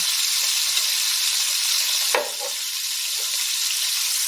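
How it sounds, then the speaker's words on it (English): Sliced red onions hit hot oil in a pan with a loud, steady sizzle that carries through the whole stretch, with a brief clatter partway through as they land, and no voices. "sear some oil this way, and we're going to add our sliced red onions"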